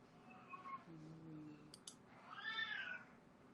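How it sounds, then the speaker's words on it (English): Several pet cats cry and meow indoors, a low drawn-out wail followed later by a higher, louder plaintive cry, moderately near and heard without talk. "Can y'all hear my cats crying?"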